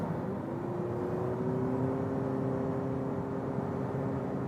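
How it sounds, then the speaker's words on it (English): A Toyota Prius Prime plug-in hybrid accelerating in sport mode from 90 km/h with its combustion engine running, a steady low engine hum and a rising whine heard from inside the cabin, moderately quiet and continuous. "go to sport mode, from 90 kilometers an hour. Let's see, with the combustion engine on"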